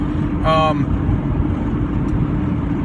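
A car drives along the road, its low engine and road rumble steady and close throughout, with a brief tonal chirp near the start.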